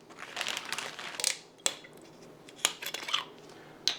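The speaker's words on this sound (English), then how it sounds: "We put our pineapple in the plastic bag," A plastic bag crinkles and rustles as a pineapple is put into it, with a dense crumpling stretch followed by several sharp, separate crackles and rustles, close and alone.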